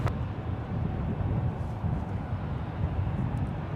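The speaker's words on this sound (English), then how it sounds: "This is United Airlines Flight 837 departing to Tokyo, Narita." A six-year-old United Airlines Boeing 787-9 Dreamliner departs San Francisco International for Tokyo Narita, heard as a broad, steady distant jet roar with wind-like rumble throughout.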